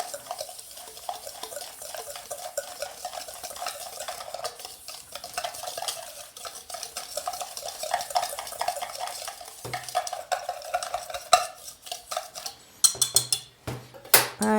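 A steady, continuous scrape and stir of homemade dishwasher detergent ingredients being mixed in a bowl, with light clinks and a few louder knocks near the end, close up and with no talking.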